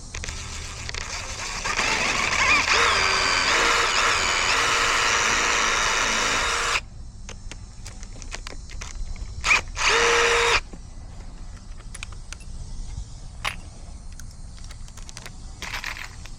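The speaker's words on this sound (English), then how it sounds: "I need to drill a little pilot hole first" A power drill whirs loudly for about five seconds boring a pilot hole in edging, stops, then gives a second brief burst, with scattered clicks and handling noises around it.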